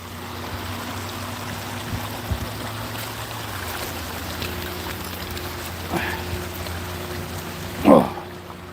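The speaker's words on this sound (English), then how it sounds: "Love the sound of the water." Creek water from Ozarks natural springs flows in a steady broad wash, close and continuous, with a small splash or knock near the end.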